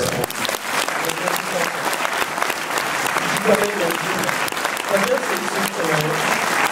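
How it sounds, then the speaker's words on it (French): Audience ovation at a film premiere for the movie Turf in Toulouse: sustained dense applause from a packed room, steady and loud throughout, with voices faintly mixed in beneath the clapping. "Donc elle mérite une ovation, même si elle n'est pas là"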